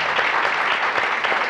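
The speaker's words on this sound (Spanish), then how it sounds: "Otro aplauso" Studio audience applauding for a guest on a Spanish-language talk show, steady dense clapping filling the space at moderate loudness without pause.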